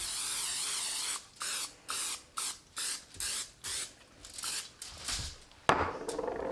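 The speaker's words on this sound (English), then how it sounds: "you want to spray down the bottom and the sides." Cooking spray hisses into a lasagna baking dish in about eight short, evenly spaced bursts, close and clear, with a sharper clatter near the end.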